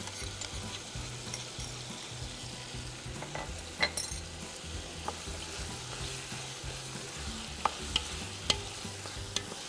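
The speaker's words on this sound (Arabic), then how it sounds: "هنا احنا قاعدين نشوح معانا، ممكن نبدا ننزل عليها بهارات، حنحط له كمان توم برضو" Chicken sautéing in a pan with spices and garlic, a continuous close sizzle with scattered clicks from stirring, no talking.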